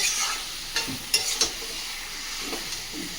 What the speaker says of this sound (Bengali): মাংসটা ভালোভাবে কষিয়ে নিয়েছি